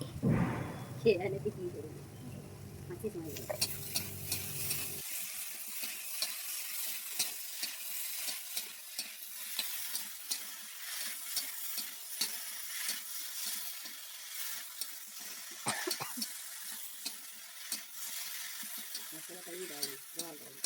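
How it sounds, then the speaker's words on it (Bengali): Spices with a little sugar sautéed and stirred in a hot pan, a steady sizzle with repeated scraping strokes of a spatula, close and moderately loud, with a voice speaking at the start. "সব কিছু দেওয়ার পর ভালো করে একটু কষে কষে"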